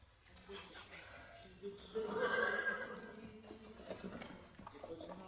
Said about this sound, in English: The horses!